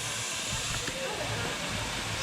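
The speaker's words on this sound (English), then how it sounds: "and now we're about to get on this steam train." Steady broadband hiss of a steam train at the Pioneer coal mine, continuous and fairly loud across the whole stretch, with a faint low rumble underneath and no clear talk.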